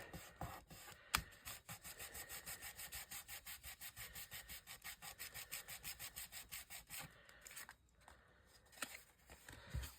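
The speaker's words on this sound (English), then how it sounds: "So I'll just very gently fold that back so that I can burnish." A tool rubs back and forth along the fold of a folded paper gift box, a quick, even run of close, raspy scraping strokes that pauses briefly near the end before a few more passes.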